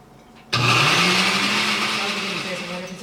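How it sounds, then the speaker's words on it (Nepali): An electric mixer starts up abruptly and runs steadily, blending ripe banana with a tablespoon of milk into a paste, a loud continuous whirring motor close by with no talking. "यो बनानालाई मिक्सीमा राखेर चलाउनु पर्यो एकछिन"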